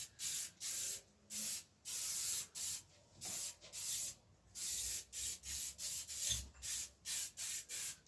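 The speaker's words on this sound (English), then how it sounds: "just give it a good spray down so there's a nice light coating of oil" Short hissing bursts from a Muck-Off MO94 aerosol spray can coating a titanium bike frame with oil repeat in a quick on-off rhythm, close by and fairly quiet, with nothing else in the background.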